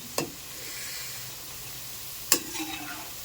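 Onion pakodi fry in hot oil with a quiet, steady sizzle, broken by two sharp scraping or clinking strokes, one at the start and one near the end, close and without speech.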